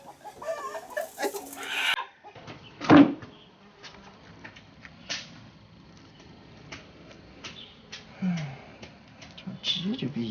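A free-range farm chicken clucks and gives a loud squawk as it is chased, followed by scattered short clucks, with people talking nearby.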